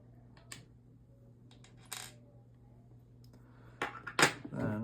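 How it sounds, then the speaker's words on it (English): Small screws from a Sig Sauer P365XMacro pistol are set down to the side: a few light metallic clicks and taps on a hard surface, with a cluster of closer, louder clatters near the end. "Put those screws off to the side."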